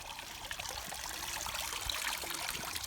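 Steady running water trickles and gurgles continuously, a close, even flow of murky runoff from a field into a flooded area, with small splashes throughout.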